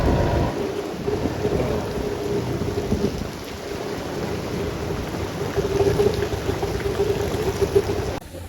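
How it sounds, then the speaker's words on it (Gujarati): Heavy rain pours down in Surat in a dense, steady roar, with low rumbling thunder underneath. "વરસાદ અંધરાધાર પડે છે"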